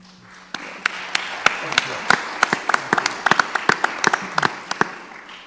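A small audience at a community police forum in a church gives a panel a round of applause. Scattered individual claps start sparse, then quicken into a brief, fairly close patter.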